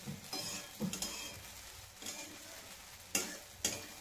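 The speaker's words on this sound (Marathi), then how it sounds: "अशी व्यवस्थित हलवून घेतली" Khichdi stirred in a pan over a low flame, soft intermittent scrapes and knocks of a spoon against the pan over a faint sizzle, quiet and close, no talk.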